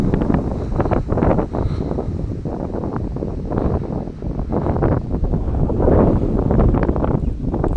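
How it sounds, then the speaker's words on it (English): Strong gusty wind from Storm Bronagh roars across an open field in the UK, buffeting the microphone with a loud, continuous blustery rush that swells and dips without pause. "Very windy, very windy."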